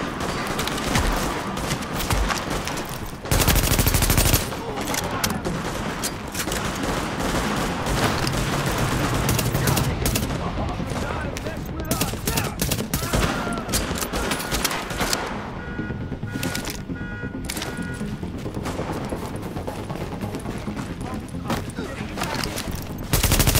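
Sustained gunfire from the video game The Division, a dense chaotic firefight with rapid bursts and shots continuing throughout over game music and effects, with an intermittent beeping warning mixed in.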